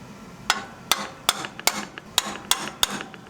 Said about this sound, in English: I'm going to use a punch located on the mark I made and just tap it a few times with a hammer.